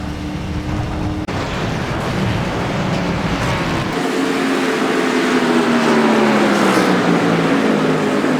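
NASCAR Cup race cars on the Watkins Glen road course in the iRacing video game produce a loud, continuous engine roar. Pitch slides as the cars pass and accelerate, with a brief cut near the start and no voices.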